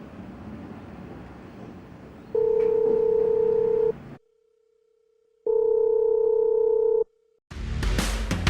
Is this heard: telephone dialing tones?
yes